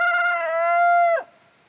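A Leghorn rooster crows once, close and loud, a clear sustained cock-a-doodle-doo that drops off sharply at the end into quiet outdoor backyard air.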